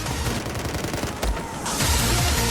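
Rapid close gunfire in a Battlefield shooter, a dense volley of loud shotgun blasts and rattling shots crowding the short moment with no pause.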